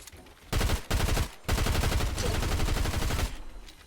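Rapid close-range gunfire bursts during a Fortnite gunfight, several loud volleys in quick succession with brief gaps, then dropping away at the end.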